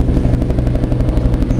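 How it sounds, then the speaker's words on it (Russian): A helicopter passes low overhead, its rotor producing a loud, rapid, regular thudding pulse over a deep engine rumble, close and sustained. "Ой, девочки, вертолет."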